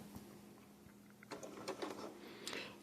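A sewing machine stitching a blanket stitch binding on a quilt: quiet, close mechanical whirring and clicking in short irregular bursts over a low steady hum, with no talk.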